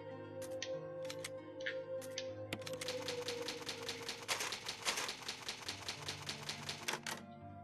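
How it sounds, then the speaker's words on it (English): Rapid mechanical clacking of an old typewriter in the video game Resident Evil, keys striking in quick irregular bursts over a low steady hum, close and fairly loud. "It's an old typewriter."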